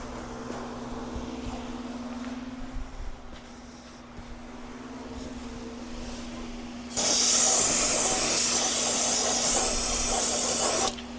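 Spraying shop-grade Windex glass cleaner gives a loud, steady hiss that starts abruptly partway through and holds for several seconds, over a low hum of background noise.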